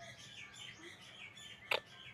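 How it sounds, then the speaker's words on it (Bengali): A single short bird call rings out near the end, a brief sharp chirp over a low hum of outdoor background noise beside a dry, shrunken river on a hot day. "ওই দেখো ওই পাখিটা, পাখিটা দেখো বসে বসে কী করছে"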